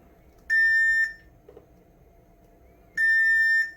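Two separate steady electronic beeps from a multimeter's continuity test on a circuit board, each about half a second long, clear and close against quiet room noise.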